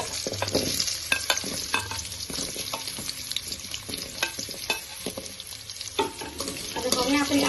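Raw sweet potato cut into small pieces sizzles in a pan of oil while being stirred, with steady frying hiss broken by repeated scraping and clattering spoon strokes close by, for a fasting-day dish.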